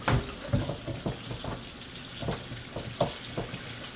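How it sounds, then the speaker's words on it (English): A kitchen item used to cut thawed salmon being washed under a running tap, water splashing in irregular bursts and clatters close by, with no talking. "I'm gonna wash this since I just used it"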